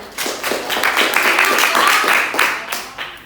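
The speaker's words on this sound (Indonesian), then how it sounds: "Ya, bagus. Tepuk tangan." Classroom clapping during a dance lesson, a short burst of students clapping together, close and fairly loud, tapering off over a few seconds with a few voices among it.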